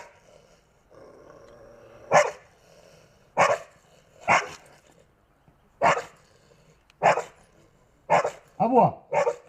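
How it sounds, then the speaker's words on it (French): A small golden retriever cross barks in short, sharp bursts, about eight spaced barks with a brief whine near the end, close and clear, with a person talking quietly in the gaps. "Aboie, aboie, aboie, aboie."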